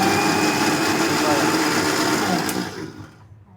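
A mixer grinder blending mango juice runs at a steady, loud high-pitched whir, then winds down and stops near the end.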